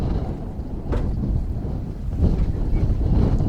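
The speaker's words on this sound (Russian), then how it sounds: "Ветер сегодня, но теплый ветер." Steady warm wind in a village in May buffeting a microphone, a low rumbling roar with a couple of stronger gusts and no voices.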